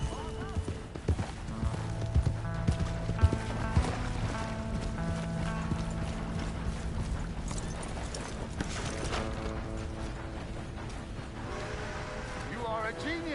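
Horse hooves clop in a steady galloping rhythm in the Red Dead Redemption 2 game, mixed under dense music and other game sounds.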